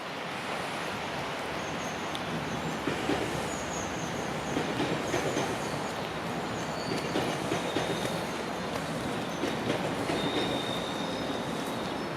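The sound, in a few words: commuter train passing, heading into Union Station, Toronto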